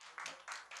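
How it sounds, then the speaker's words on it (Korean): Short bursts of applause from a seated audience at a Korean university startup forum, welcoming a guest to the room; three quick swells of clapping, moderately faint and somewhat distant. "여러분 큰 박수로 환영해 주십시오"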